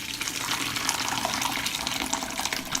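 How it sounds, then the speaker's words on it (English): Homemade yogurt cheese being strained through cheesecloth in a colander set over a pan, giving a steady, close, continuous trickling and splashing of liquid with no voices. "I put cheesecloth on the colander and strain the cheese."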